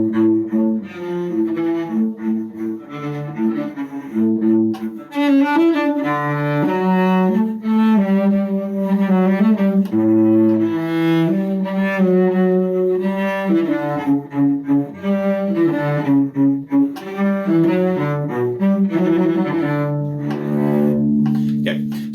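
Cello plays the repeat section of the Minuet from Suzuki Cello Book Volume 3, a steady bowed melody of connected notes with a few brief pauses, close and fairly loud with no talking.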